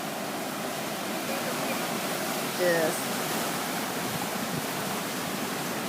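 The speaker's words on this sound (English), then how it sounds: "The waves are great." Ocean waves break on a Hawaii beach as a steady, broad wash of surf noise, with a brief spoken word and faint voices in the middle.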